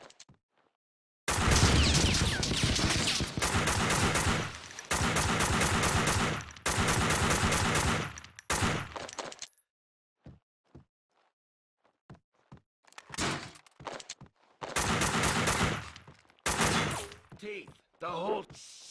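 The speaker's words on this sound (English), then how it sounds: "Someone must have heard the gunfire." Rapid bursts of automatic gunfire in loud volleys, separated by pauses with scattered single shots and thuds, a firefight in the video game Max Payne 2.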